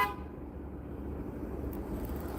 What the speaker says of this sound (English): What are you honking at?